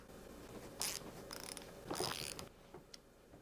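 A ratchet runs down T45 bolts on a 4.6 3v engine, giving quick bursts of clicking that stop and start several times and sound close and fairly loud.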